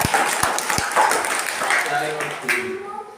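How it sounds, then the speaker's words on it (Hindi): Schoolchildren clapping together in a classroom during a bag-free day event at a government school, a mixed patter of hands with a few sharp claps early on, children's voices audible over it. "एक बार जोरदार ताली बजाओ अच्छे से।"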